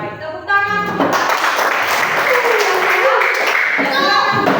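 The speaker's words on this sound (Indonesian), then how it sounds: "Tepuk tangan." A group of children clap their hands together in a classroom, producing a steady, dense burst of applause that keeps going, with a voice heard briefly at the start.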